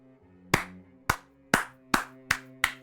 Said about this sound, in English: Claps for Enhanced Shamans.